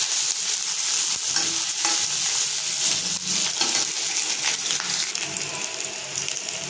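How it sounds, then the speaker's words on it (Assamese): Onions fry in hot oil in a pan for an Assamese-style pork curry, giving a steady, close sizzle with occasional stirring scrapes, continuous and without speech. "পিঁয়াজখিনি অলপমান ভাজি লওঁ"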